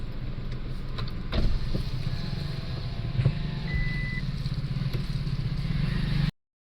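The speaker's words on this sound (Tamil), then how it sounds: "நம்ம பார்க்கிங்லேருந்து வண்டி எடுக்கிறேன்" A car is taken out of a parking lot, with a steady engine and road rumble, a few clunks and a short electronic beep, before the sound cuts off abruptly.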